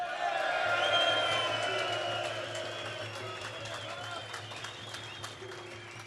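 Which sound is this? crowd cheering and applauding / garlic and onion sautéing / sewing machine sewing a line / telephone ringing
crowd cheering and applauding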